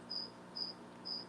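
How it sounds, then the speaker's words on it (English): Crickets chirp inside a house with three evenly spaced, high, shrill pulses over a faint steady background. Each chirp is clear and moderately loud, and no one is talking. "So you don't hear all the crickets running around my house."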